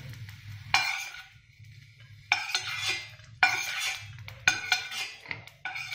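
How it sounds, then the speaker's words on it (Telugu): Pans and utensils clink and knock while a tempering is cooked for guava chutney, with several sharp metallic strikes spaced a second or so apart over a low steady hum. "ఇప్పుడు తాలింపుకి పెట్టుకుంటున్నాం"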